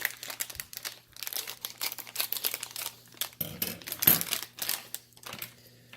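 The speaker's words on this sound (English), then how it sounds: "Get a little scissors to open it up." Small scissors snipping open a little plastic parts bag from an aquarium kit, close crinkling of thin plastic mixed with sharp clicks and snips, quiet and intermittent.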